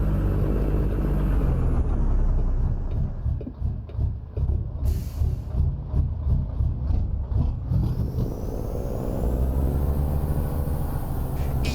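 A heavy truck engine in American Truck Simulator rumbles steadily and loudly throughout, with a deep low drone and rhythmic pulsing as it moves, alone with no talk.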